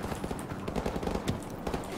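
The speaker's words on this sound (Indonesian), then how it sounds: "Tembakan dari mana itu?" Gunfire in Call of Duty Modern Warfare Remastered rattles in rapid, irregular bursts of shots at moderate volume, continuing throughout without a break.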